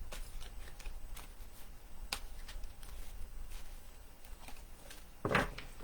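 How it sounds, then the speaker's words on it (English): Oracle cards being shuffled and drawn by hand, soft papery riffles and taps scattered across a quiet room, with a sharper rustle near the end. "Let's get back to our cards here. I'm going to pull another card."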